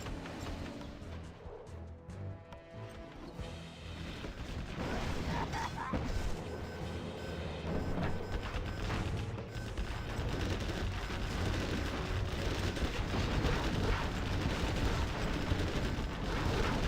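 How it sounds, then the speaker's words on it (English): Flashbang grenades go off in a strategy video game match, with repeated sharp blasts and crackling gunfire piling up over a dense, continuous battlefield din. "that's a nice use of flashbangs there"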